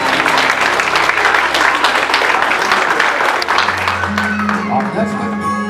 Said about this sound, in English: Ladies and gentlemen, a round of applause for Megan and her father,